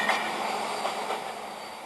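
Steady rumbling train noise with a broad rushing roar, fairly loud and continuous, as a train rolls in nearby; no voices.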